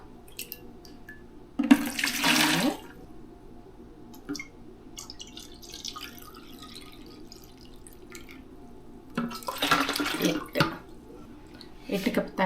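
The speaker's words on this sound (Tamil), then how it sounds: "அதே மாதிரி எயிட் கப்ஸ் ஆஃப் வாட்டர் அளந்துக்கலாம்" Water is measured out into cups in a kitchen for making bio enzyme, with two bursts of pouring splashing nearby amid quiet drips and faint background noise.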